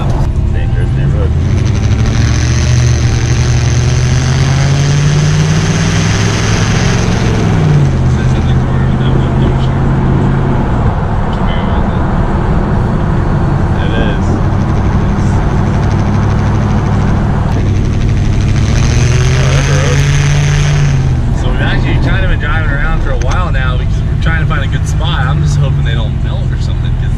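An 841hp Corvette idles with 16 duck calls fitted to its exhaust tips, giving a loud, continuous droning rumble with buzzy harmonics that swells and shifts in pitch, and people talking beneath it.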